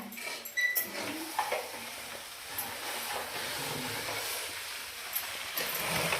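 Tempering for sweet avalakki crackles and sizzles steadily in a hot pan, with faint stirring clinks against the metal and no voices.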